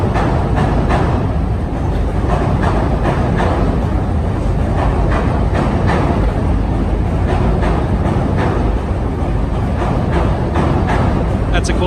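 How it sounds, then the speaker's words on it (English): Trains pass along the Chicago Riverwalk, giving a continuous loud rumble with rhythmic clattering of wheels over rail joints that recurs throughout. "Oh, there's a good view of the trains."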